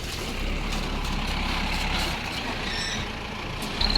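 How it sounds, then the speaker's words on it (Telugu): A lorry being moved at a Kolleru lake fish-loading site, its engine a steady nearby rumble under broadband noise for about two seconds, easing off before a brief hiss like an air brake at the end. "లారీ తీపుతున్నా లారీ బాగా ఇబ్బంది పడలే లారీ తీపుతున్నా"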